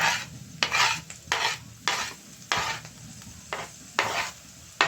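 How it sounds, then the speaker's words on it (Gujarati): A spoon stirring sev bhaji mixture with chillies in a hot pan, rhythmic scraping strokes about once or twice a second over a low continuous sizzle, close and clear with no talking. "થોડી વાર હલાવશું, બરોબર છે।"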